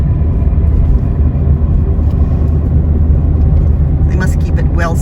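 A car camper descends steep Mexican Hill, a roughly 9% grade sanded for winter, its engine and road noise rumbling steadily and loudly inside, with talk over it.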